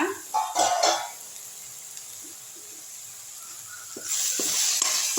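Masala for dried anchovy thokku sautés in oil in a pan, giving short bursts of close sizzling at the start and the end. A quieter, low hiss fills the stretch between them.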